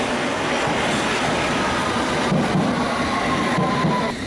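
A London Underground District line train rumbles steadily on the track, a loud continuous roar of wheels and carriage noise with a faint rising whine throughout.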